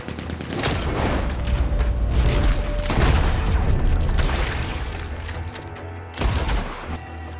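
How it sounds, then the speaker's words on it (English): A Gatling gun fires long, loud, rattling bursts in Red Dead Redemption 2, with booming impacts and chaotic crackle, a heavy sustained barrage that eases slightly before a final sharp blast. "He's going for the Gatling! Look out, he's firing!"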